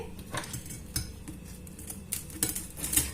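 A knife cuts through a crisp brick pastry with an egg inside, producing a series of crackly crunches and light scraping clinks against a plate, close up and alone.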